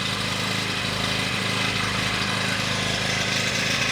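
A Racing RAC 3100-A petrol generator engine runs steadily, a continuous buzzing drone close by with a slight uneven throb.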